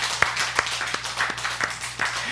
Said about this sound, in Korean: 박수로 하나님께 영광 올리겠습니다.